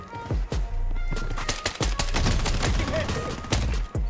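A semi-automatic rifle fires in the shooter game BloodStrike: close, loud single shots in quick irregular succession, around a dozen sharp cracks over dense battle noise.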